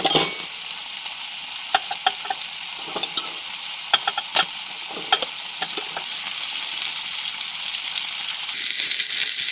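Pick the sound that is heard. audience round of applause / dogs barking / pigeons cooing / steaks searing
steaks searing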